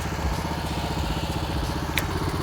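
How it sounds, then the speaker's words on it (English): A BCS walk-behind tractor's small engine runs steadily while the machine backs up in reverse, a close, loud, even putter with a rapid chugging rhythm throughout and a brief click near the end. "Let go of my clutch, and the tractor will start to back up."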